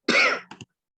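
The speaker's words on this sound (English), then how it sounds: "I've got a bit of a cough, so you're going to have to bear with me." A woman gives a single sharp, close throat clearing that ends in two short cough-like bursts, alone and brief.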